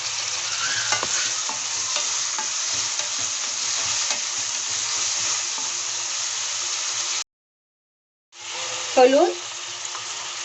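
Spices and tomato frying and being stirred in a pan for an eggplant curry, a steady close sizzle with scraping strokes of the spoon, a brief pause, then more stirring and a short spoken word.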